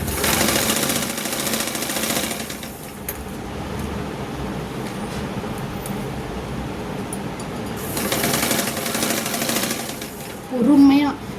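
A sewing machine stitches along the lining edges of a blouse, running in steady bursts with a brief pause between, while someone talks over the whirring throughout.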